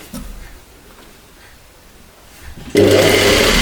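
A sewing machine stitches fabric up to the notch on a tailored collar: near-silence with faint handling noises, then an abrupt, loud, steady mechanical run during the last second.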